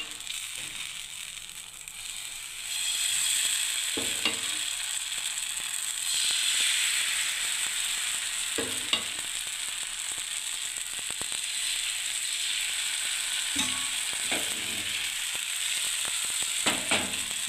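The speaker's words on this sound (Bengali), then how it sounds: "এবার আমি আবার তাওয়াতে তেল দিলাম, আবার আরেকটা দিয়ে দিচ্ছি" Ata-suji pitha fries in oil on a tawa with a steady close sizzle, broken by occasional scrapes and clicks of a utensil against the pan, and no voices.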